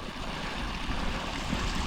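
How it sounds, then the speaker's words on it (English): Continuous rushing water from a small waterfall coming down a Peak District mountainside, a steady broadband wash heard up close with no talk. "Nice little waterfall."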